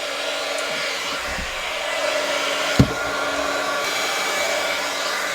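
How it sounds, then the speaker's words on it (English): A heat tool used to melt Brutus Monroe Icicle ultra fine embossing powder blows with a steady, close hair-dryer-like whoosh, broken by one brief thump partway through, with no speech. "And I'm going to heat up my tool."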